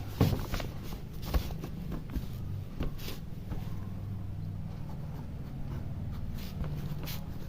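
Pen or marker strokes writing Urdu letters during a reading lesson, a steady run of close scratchy strokes over low room hum, with no talking.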